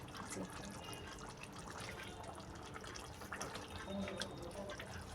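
Masala curry of freshly ground spice paste heating in a pot on the stove, a soft continuous bubbling and sputtering with faint pops, low and steady throughout.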